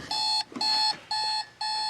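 A Spartus Model 1208 alarm clock sounds its alarm through a small built-in speaker, four quiet electronic beeps of even length in a steady on-off rhythm, heard alone.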